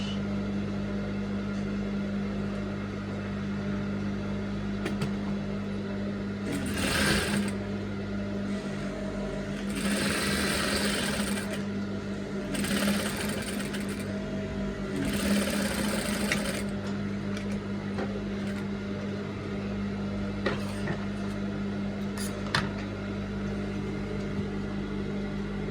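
A sewing machine running on its number 2 stitch sounds in four short whirring bursts over a steady background hum, with pauses between the runs.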